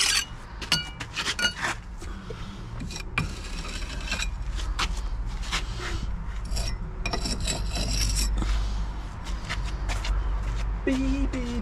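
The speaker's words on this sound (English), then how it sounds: "I have to just get my trowel and just scrape off the worst" A trowel scrapes mortar off brickwork with repeated close gritty rasps and light metallic clinks over a steady outdoor background hum.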